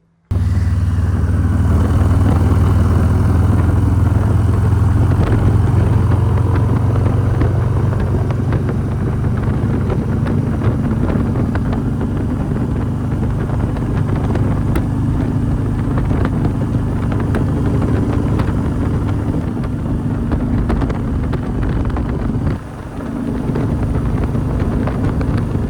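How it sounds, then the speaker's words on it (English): Harley-Davidson FXR motorcycle cruising on the road, a steady low engine drone mixed with heavy wind rush past the microphone, continuous and loud throughout with a brief dip near the end. "we're gonna take the FXR, the daily rider, and we're gonna cruise over there"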